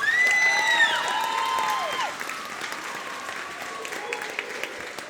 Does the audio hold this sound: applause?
yes